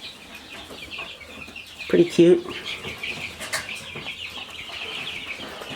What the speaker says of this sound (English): We also have the Cornish cross meat chickens